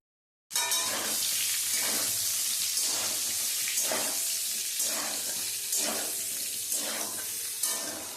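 Fried potatoes and pointed gourd (potol) hiss and sizzle in hot oil with cumin and spices. The frying is loud and continuous, with regular stirring scrapes of a spatula every second or so.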